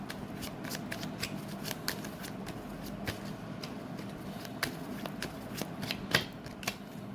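Tarot cards being shuffled and drawn, a steady papery riffling and flicking with sharp snaps of cards near and alone, no voices.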